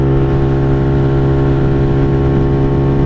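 KP Mini 150 motorcycle fitted with an aftermarket muffler cruising steadily at 60 on flat ground, a loud, even engine drone with a constant pitch and wind rush running throughout.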